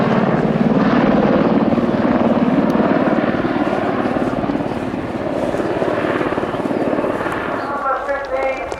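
Aircraft at an air show making a rolling landing, its loud, steady propeller and engine drone dominating throughout and easing slightly toward the end, with an announcer talking over it.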